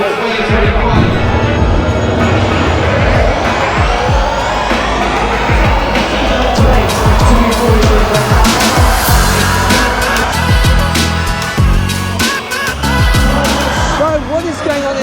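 Formula E race cars at the London race start, a loud dense wash of electric motor whine, tyre squeal and crowd noise with sharp bursts throughout, voices faintly mixed in.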